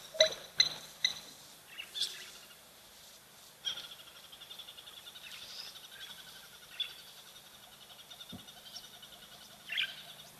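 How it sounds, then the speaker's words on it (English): A crested barbet calls outdoors on an African wildlife camera. A long, sustained trill repeats at moderate distance, mixed with sharper chirps and calls from other birds against a quiet background. "I think it's probably the crested barbet"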